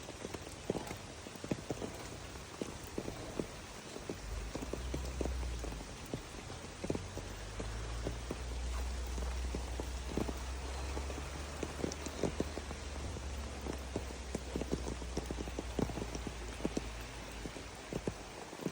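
Steady rain in Mauritius patters on a surface, with scattered sharp drops tapping throughout over a low continuous rumble.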